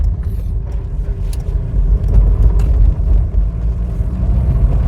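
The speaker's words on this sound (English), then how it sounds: "Nice lustful torquey engine" A Volvo 360 GLT car engine runs steadily with a deep, loud rumble that holds constant throughout.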